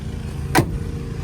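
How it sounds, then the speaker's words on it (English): The door of a 1966 Pontiac GTO with a 389 3x2 engine shutting: a single solid, close thud partway through, set against a steady low background hum. "Door shut like a glove."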